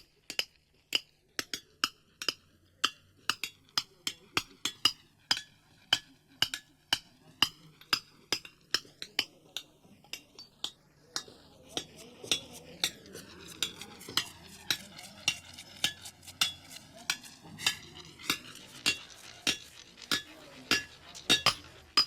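An artisan hammering on stone in southern India, with a steady run of sharp metallic clinks struck one after another, close and clear, and a denser, faster patch of ringing taps in the middle.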